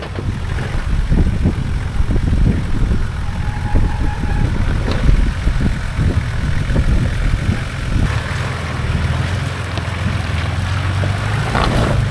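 The biggest and heaviest 4WD in a convoy crawls down a Victorian High Country track, engine revving and labouring loudly with rough bumps and knocks, growling steadily for several seconds.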